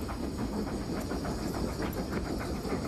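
A working steam train at the Sandailing coal mine in Hami, Xinjiang, giving off a steady loud hiss of steam with rhythmic chuffing pulses and rumble, close by and without speech.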